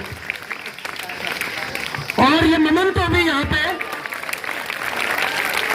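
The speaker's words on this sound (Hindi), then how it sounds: "तमाम स्टाफ मेंबरान और तमाम बच्चे, आपकी ताली बजती रहनी चाहिए।" Staff and students clap at a school felicitation for a student who qualified for NEET, a steady applause bed under someone speaking, with a brief burst of whistling or cheering in the middle.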